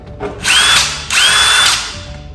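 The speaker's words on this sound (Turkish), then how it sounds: "Bu somun sıkma diye geçiyor" A Dewalt 18V cordless impact wrench, a high-torque tool on a 2 Ah battery, runs in two loud bursts of about half a second each with a short gap between them, close up and with no talk over it.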